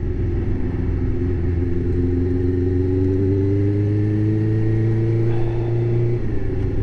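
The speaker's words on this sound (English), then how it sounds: "You get a lot of head turns from a motorbike, mainly because of the noise" Motorbike engine while riding, a steady loud drone with a gradually rising pitch as it accelerates, then easing off near the end, close up with wind rumble beneath.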